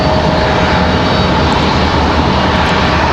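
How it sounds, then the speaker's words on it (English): CRJ regional jets landing at Raleigh-Durham International Airport, a loud, steady broadband engine roar filling the whole stretch with no break, close by and alone. "Got a couple of CRJs landing on the backside there."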